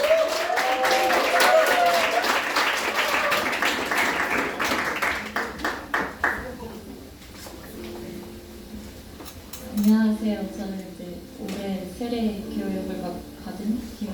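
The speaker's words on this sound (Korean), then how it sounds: "박수로 환영해 주세요" A congregation at a church youth worship service in Suwon claps for about seven seconds to welcome a baptism representative, a dense applause that fades before someone begins speaking.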